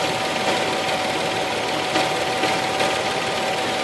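A running V6 engine, heard up close through a heavy metal tool pressed against the top of a spark plug wire, gives a continuous rough, buzzing hum with slight uneven pulses throughout.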